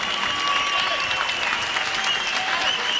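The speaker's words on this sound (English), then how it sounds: "Karam Murat, big round of applause." A crowd at a fight event applauds with dense, steady clapping and some cheering that fill the whole moment at an even, loud level, with no distinct talking.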